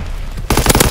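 Rapid automatic gunfire from the STG44 rifle in Call of Duty, Haywire II weapon variant, bursting in loud and close after a half-second of quieter game ambience.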